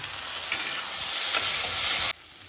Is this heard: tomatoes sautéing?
yes